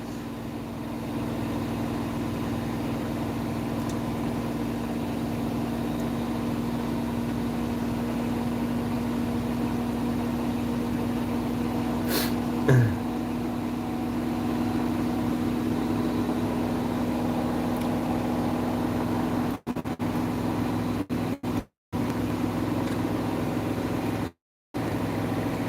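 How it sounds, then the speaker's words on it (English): A washing machine runs in a home with a steady mechanical hum and drone that continues without a break, holding a constant pitch, with a few brief dropouts near the end and no talking. "that's the sound of washing machine"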